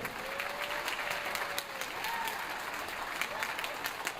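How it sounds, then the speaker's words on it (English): Audience applause at a school band concert for a 7th grade percussion ensemble, a steady, fairly distant patter of many hands clapping, with faint voices underneath. "How about another round of applause for the 7th grade percussion ensemble?"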